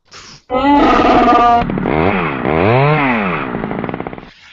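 A loud, harsh roaring growl sound effect runs for a few seconds, mixing a buzzing chainsaw rasp with a deep Chewbacca-like animal roar that rises and falls.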